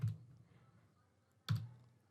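Two separate soft keystroke clicks on a computer keyboard while entering a zip code into a web registration form, each a brief tap followed by quiet room tone.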